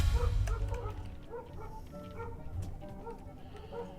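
A dog in the Hogwarts Legacy video game barks in a short series of yelps at moderate distance, over a low background bed with brief rumbling at the start.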